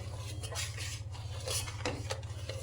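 A spoon scrapes and knocks against a pot while sweetened milk is stirred for khoya kulfi, with soft repeated clinks and rubbing over a steady low hum of the stove.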